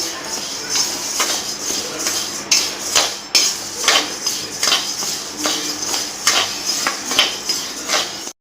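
Urad dal lentils dry-roasting in a pan rattle and clatter under repeated utensil scrapes and knocks, in a fairly regular rhythm of sharp metallic strokes, close and loud, with a brief voice at one point.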